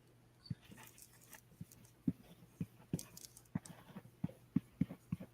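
A dog gives quiet whimpers and small yips as soft, irregular short cries spread across several seconds, set against a faint low hum and some light rustling.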